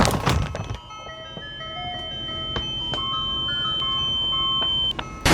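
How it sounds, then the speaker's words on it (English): A loud ice cream truck jingle plays its tinkling melody of bright, repeated electronic notes for several seconds, opening with a few heavy thumps and ending with a short break before the tune resumes. "look, an ice cream truck"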